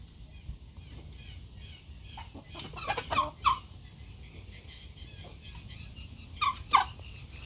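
Laying hen clucking in a backyard flock: a few short bursts of throaty clucks and rising squawks, close by, over a low background rumble with no talking.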